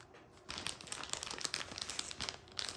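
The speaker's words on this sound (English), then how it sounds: "Sorry for the rustling of the plastic. I know it's loud and obnoxious." A plastic packet holding Kill Team game contents is torn open and handled, giving continuous close, crinkly rustling and crackling for a couple of seconds.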